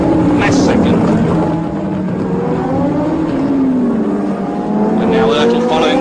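1976 Formula 1 race cars at the Japanese Grand Prix roar past in loud, rising and falling engine sweeps, heard from trackside under a commentator's voice.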